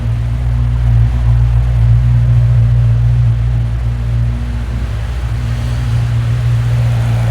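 A Maserati Quattroporte 4.2 V8 idling in a workshop, a steady low engine drone that holds even and close throughout.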